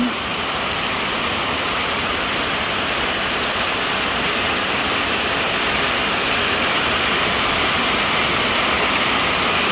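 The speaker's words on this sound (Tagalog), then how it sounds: "Tag-ulan na nga po yata at lagi na pong maulan dito po sa amin" Steady heavy rain during the rainy season, a dense unbroken hiss of drops on surfaces that holds loud and even throughout with no voices.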